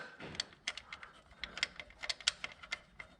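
Screws being driven back into the transmission range sensor (neutral safety switch) of a 2003 Ford Explorer, heard as quiet, rapid ratcheting clicks in an irregular rhythm, close up and faint.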